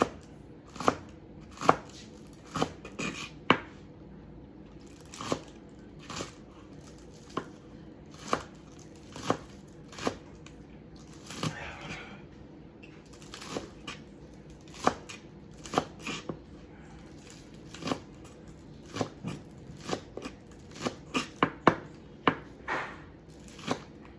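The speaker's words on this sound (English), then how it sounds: "the best way to hold your knife is by pinching right here because it's going to give you the most control as you're cutting" A knife chopping food on a cutting board, sharp knocks falling in uneven runs and pauses over a long stretch, near and crisp against a quiet room with no speech.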